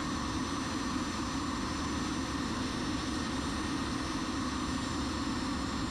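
A Cirrus Vision Jet runs before takeoff, its engine giving a steady, loud, broad roar with a high whine, heard from inside the cockpit and unchanging throughout, with no talking.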